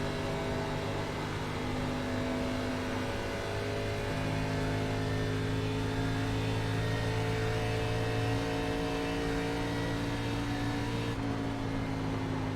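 A race car engine in a racing video game drones at Charlotte Motor Speedway as the driver eases off the gas, a steady, close, loud hum with a faint shift in pitch and no talking.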